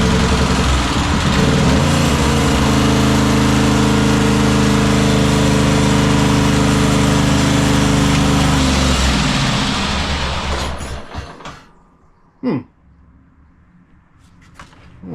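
An old, beat-up tractor engine running loud and close with a throttle cable, roaring steadily at high revs before shutting off abruptly, followed by near silence with a single sharp knock.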